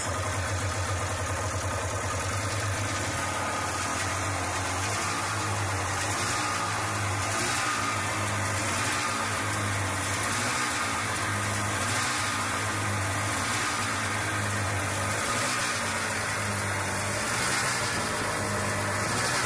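An Indy 488 engine runs at a steady idle after a crank seal replacement, a continuous even rumble with a faint rhythmic pulse and no audible talk; the start-up itself is not distinct.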